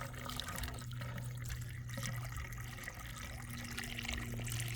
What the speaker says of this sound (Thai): ตักน้ำขึ้นมานะครับ กรอกให้เต็มฮะ